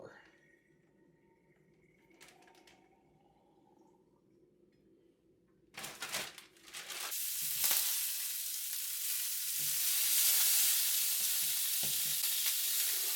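Bacon frying in a skillet, quiet at first with a few soft clinks, then bursting into a loud, steady crackling sizzle that holds through to the end.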